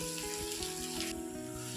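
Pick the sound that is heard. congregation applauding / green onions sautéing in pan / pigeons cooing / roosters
green onions sautéing in pan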